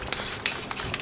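Spray paint hisses out of a can in quick, uneven bursts while painting a planet artwork outdoors in the wind, soft and close, with no one talking.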